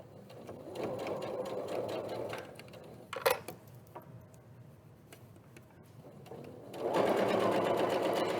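Domestic sewing machine running a seam at a sewing workshop, with a steady whirring burst, a short pause with a couple of clicks as the stitch is reversed for a backstitch, then the motor speeds up again, close and alone.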